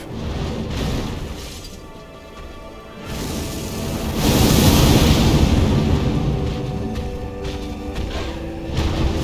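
In Elden Ring, a ghost flame breath attack rushes out as a heavy, roaring blast, swelling into a loud sustained whoosh with crashing impacts, then trailing off into rumbling noise.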